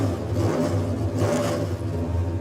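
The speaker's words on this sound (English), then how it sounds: "you can hear the revvings of the engine" A close, loud race car engine growls and revs continuously at a Race of Champions event, with a throaty low rumble and whirring overtones throughout.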